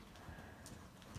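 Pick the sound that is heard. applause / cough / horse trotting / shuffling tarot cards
horse trotting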